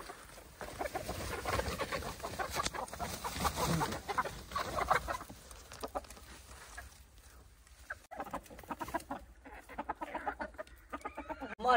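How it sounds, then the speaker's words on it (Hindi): Several hens cluck and squawk close by, overlapping in busy bursts, with rustling movement and a louder cackle at the very end. "तो भी सारी मुर्गियों को खोल देते हैं।"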